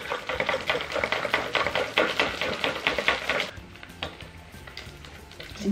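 Crunchy slime is stirred hard, producing a fast, rhythmic run of crisp crackling clicks up close that eases into softer, sparser crunches toward the end.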